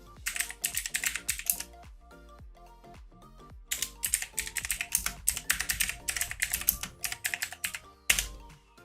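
Fingers clatter on a computer keyboard in quick bursts of keystrokes with brief pauses between them, close up and alone without any voice.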